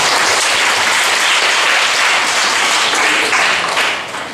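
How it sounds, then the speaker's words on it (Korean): A church congregation breaks into loud, sustained applause, dense and steady before tapering off at the end, with no voices over it. "박수 한번 주시겠습니다"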